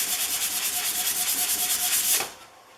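Rhythmic back-and-forth sanding of hide glue filler on a rosewood guitar back with 320 grit paper, close and quiet, ending in a final stroke and then stopping.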